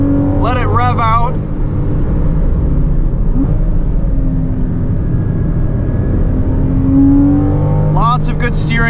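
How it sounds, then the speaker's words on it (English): A 2014 Porsche Cayman with PDK gearbox revving out on a race track, a loud, close, sustained engine drone climbing in pitch, with brief bursts of speech at the start and end. "Let it rev out."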